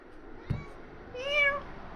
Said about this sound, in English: there's Luna meowing away